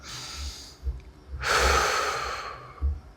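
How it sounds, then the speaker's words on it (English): Slow, deep breathing for calming the mind: a soft inhale, a pause, then a long, fairly loud exhale rushing out for over a second before fading, with faint low thumps beneath. "And to calm your mind, you need to breathe."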